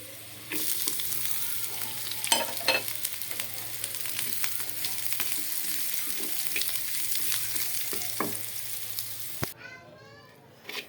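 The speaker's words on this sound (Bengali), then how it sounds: "এখন আমি এই তেলের মধ্যে এক পাশে এই যে কুচি করা রসুন আর পেঁয়াজটা দিয়ে ভেজে নেব" Chopped garlic and onion fry in oil in a pan, a continuous close sizzle with scattered stirring clicks and scrapes, ending as the hiss cuts out abruptly near the end.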